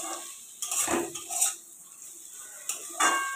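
A metal spatula clanks and scrapes against a pan while bitter gourd and potato are stir-fried, several separate clinks and scrapes heard close with quiet gaps between them.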